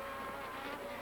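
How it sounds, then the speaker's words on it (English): Auto racing cars roar from a television broadcast, a dense continuous engine whine filling the whole second at steady loudness with no talk over it. "Auto racing. Isn't that great?"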